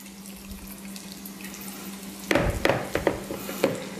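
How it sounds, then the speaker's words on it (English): Coleslaw dressing pours and splashes in short bursts onto shredded vegetables, several wet splats close by over a steady low hum. "And now we'll just pour this over our shredded vegetables."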